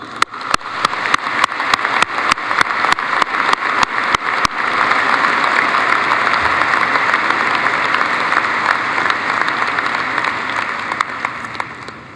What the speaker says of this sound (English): I say, well done, and I give you a round of applause.